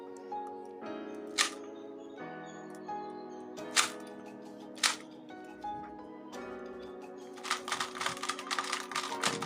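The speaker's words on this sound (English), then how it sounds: "now let's check corner cutting" A 2x2 Rubik's cube turned quickly to check corner cutting, crisp plastic clicks and clacks in irregular bursts ending in a rapid flurry of turns, close and fairly quiet.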